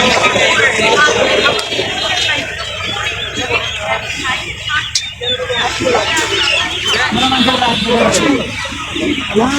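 Brahma and other chickens cluck and cackle at a busy poultry market in Gazipur district, with voices babbling throughout. Bird calls and sharp clucks keep coming close up over the crowd noise.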